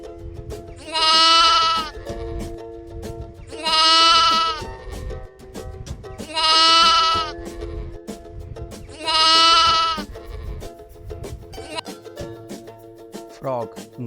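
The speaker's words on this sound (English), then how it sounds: "lamb माने दुम्बा." A lamb of the dumba sheep breed bleats four times in long, loud, quavering cries, spaced evenly a couple of seconds apart, close to the listener.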